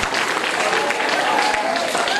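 Seminar audience applauding, a dense steady patter of many clapping hands held at even loudness throughout, with a speaking voice partly over it.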